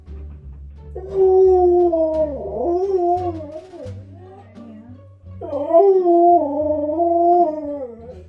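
Husky howling in two long, wavering, mournful calls, close and loud, separated by a short pause, with a faint low rumble underneath.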